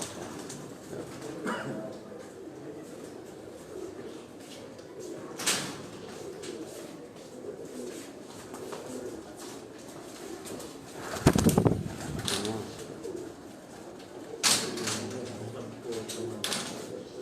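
Cord Commander breeder pigeons coo softly on a rooftop. The calls are faint and low under continuous background noise, broken by a few sharp knocks and rattles.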